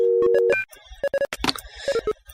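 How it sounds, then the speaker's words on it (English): Short electronic telephone dialing tones from the Rhythm Heaven DS video game: a quick run of clean, loud beeps, then a pause and a second burst of separate tone presses with a few clicks between them. "Found it! It's the phone!"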